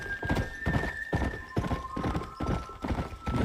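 A horse ridden in the video game Red Dead Redemption clip-clops at a steady trot, its hoofbeats landing in even, repeating groups over a faint sustained tone.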